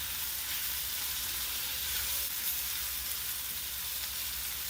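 Canned corned beef sizzles steadily as it is stir-fried in a hot pan for a Filipino breakfast dish, a dense, even hiss of frying that stays loud and constant throughout.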